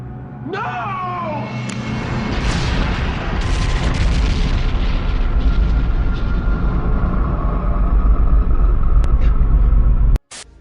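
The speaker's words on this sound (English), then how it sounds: "So what are you going to do, Malaria? Blow up the island?" A big blast sounds as an island is blown up, opening with a rising whistle, then turning into a loud sustained roaring rumble with scattered crackles before cutting off abruptly at the end.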